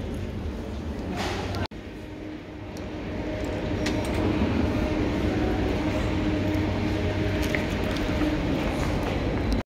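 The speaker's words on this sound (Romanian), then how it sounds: "Metroul cred că este cel mai folosit transport în comun în Minsk" A Minsk metro train rumbles steadily with a low roar and rattling, growing louder after a brief cut, with faint squeals over the continuous noise.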